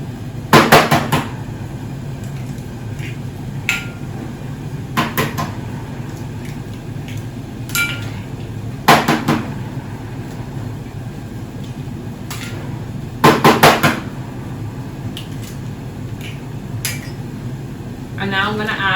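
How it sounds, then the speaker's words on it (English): Five eggs cracked one by one into a bowl for a coconut chai flan, each a short sharp tap and crack, spaced several seconds apart, close and distinct against a quiet kitchen hum. "So I'm going to crack 5 eggs into this bowl"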